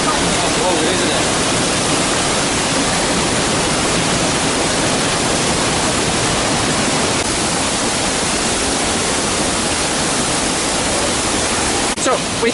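Tegenungan waterfall in Bali roars as a dense, loud, unbroken rush of falling water that fills the whole stretch, with voices buried beneath it.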